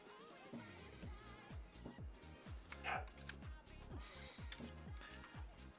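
A pet dog barks repeatedly in a steady series of sharp, fairly close woofs indoors, with a few higher yips and a brief whine mixed in as he asks to go out.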